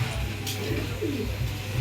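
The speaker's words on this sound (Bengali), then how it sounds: "খুব সুন্দর একজোড়া কবুতর" A pair of Iranian Baghdadi pigeons coo softly and repeatedly at close range, low rolling calls over a steady background hum.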